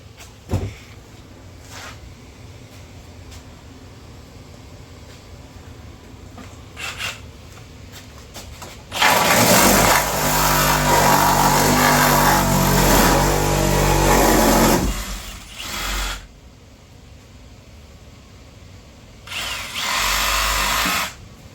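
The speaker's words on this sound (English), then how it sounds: "So now I can rip through with the Sawzall." Sawzall reciprocating saw ripping through metal, loud broadband bursts around the middle of the clip and again near the end, separated by quieter stretches of low background noise; no talking.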